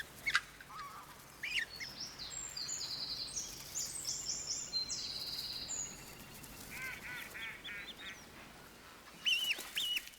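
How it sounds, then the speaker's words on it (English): Egyptian geese honk and call in short harsh bursts at a reservoir in Germany over a steady hiss of wind or water, some calls nearer and louder at the start and end. "Egyptian geese are now a common sight at reservoirs."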